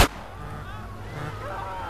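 A single gunshot from GTA San Andreas cracks loudly at the very start, then fades into a low rumbling tail beneath soft, indistinct background sound.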